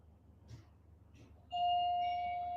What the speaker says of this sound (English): Oh, someone just rang the doorbell.